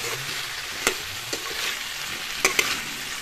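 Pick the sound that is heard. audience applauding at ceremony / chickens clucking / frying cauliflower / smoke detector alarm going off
frying cauliflower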